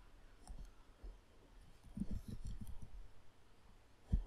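Quiet, irregular computer mouse clicks come in small clusters, close and faint, while a VMware virtual machine is set up, with a sharper click at the very end.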